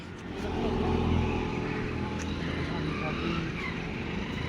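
A Hyundai Creta's engine hums steadily nearby with some rumbling road noise, while a voice talks over it.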